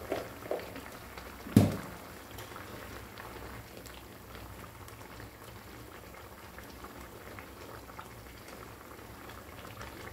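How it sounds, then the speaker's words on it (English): Fish curry gravy thickened with gram flour bubbles steadily in a pot, a continuous low simmering burble with one brief louder knock near the start, close and fairly quiet, no voices. "Let it boil for some time."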